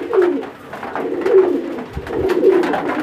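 Red Magpie fawn satinette pigeons coo close by, soft repeated throaty rolling calls rising and falling in a few rhythmic phrases with no talk over them.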